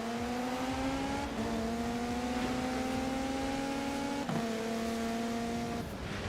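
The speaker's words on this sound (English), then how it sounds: "that Peugeot was loud" A loud Peugeot car revs continuously nearby, its engine tone sweeping steadily with small dips and climbs, then a brief shift near the end.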